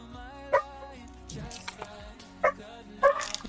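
A few short dog barks, spaced apart, over a low steady background hum; moderately loud and fairly close.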